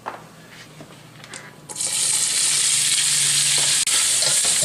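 Sausage for a Cajun chicken and sausage Alfredo goes into hot oil, and a loud, steady sizzle suddenly bursts in and continues without a break after a few seconds of quiet kitchen noise.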